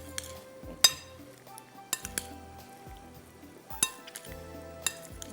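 A ladle mixes chana dal halwa in a pan, scraping with sharp metallic clinks at uneven intervals over a faint sizzle, close and clear with no voices.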